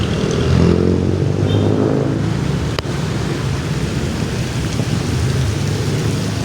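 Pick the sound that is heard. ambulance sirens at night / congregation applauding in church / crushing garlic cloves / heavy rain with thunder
heavy rain with thunder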